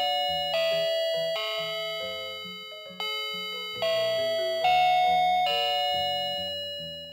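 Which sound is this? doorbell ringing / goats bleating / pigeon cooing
doorbell ringing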